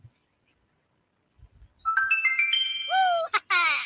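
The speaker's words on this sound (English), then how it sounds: "Text message." A bright electronic text message alert jingle plays on a sports radio show, a quick run of rising tones and chimes after a soft knock, ending in sweeping ringing notes.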